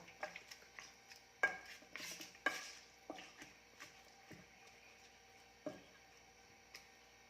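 Chicken adobo is stirred in a pan with a scattered series of light clinks and scrapes of a utensil against the metal, fairly quiet and close, with no talk.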